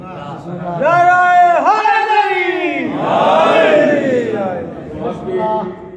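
A crowd at a Shia jashn gathering in an imambargah in Dera Syedan, Gujar Khan, loudly chants a slogan in strong, drawn-out voiced waves that swell and fade over several seconds.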